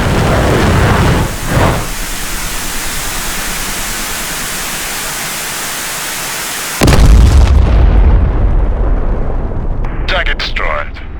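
A guided missile from a Mi-24P Hind strikes its target in DCS World with a loud explosive boom and a heavy roar, preceded by a long stretch of steady hissing rotor and engine noise.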